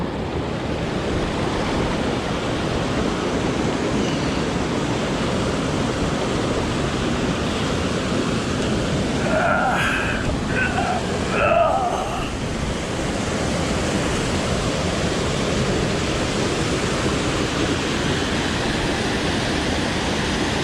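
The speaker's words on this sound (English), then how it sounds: "Okay, so we're working our way to this next waterfall." Steady rushing water of a waterfall on a small mountain creek in Wyoming's Beartooth Mountains, a continuous loud broadband roar filling the whole clip, with a few brief faint tonal sounds partway through.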